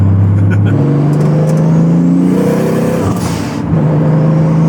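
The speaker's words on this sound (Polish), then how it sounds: "I ten dźwięk blowowa." A Toyota Supra MK IV engine revs near and loud, rising in pitch and then dropping with a brief hissing blow-off valve release, while people talk over it.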